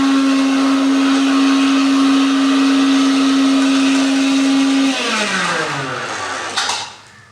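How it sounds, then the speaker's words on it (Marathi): A mixer grinder whirs loudly and steadily as it blends green chillies with salt, then the motor cuts off and winds down with a fading whine and a small clunk at the end. "चार पाच हिरवी मिरची थोडं मीठ टाकून मी मिक्सरमध्ये वाटून घेत आहे"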